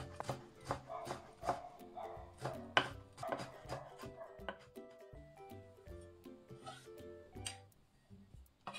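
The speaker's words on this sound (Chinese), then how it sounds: "切丝以后再切成碎末" A knife minces lemon zest on a cutting board in quick, uneven chops, close and fairly soft, over light background music.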